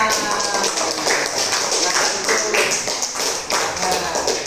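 A classroom group claps together in a dense, steady patter that runs throughout, with a few voices mixed in.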